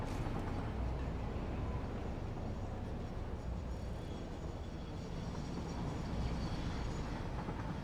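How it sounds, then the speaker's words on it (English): Trains rolling through a busy factory in the video game Satisfactory, a steady, fairly quiet rumble with faint clickety-clack throughout, no voices. "So many trains."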